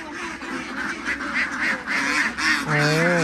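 A dense flock of ducks on a Thai duck farm quacks and honks continuously, loud and close, with overlapping calls throughout and a longer drawn-out call near the end.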